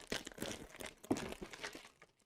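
Crinkling and tearing of adhesive tape being cut open on a computer motherboard package, a quiet close-up stretch of rustling plastic and crunchy snips.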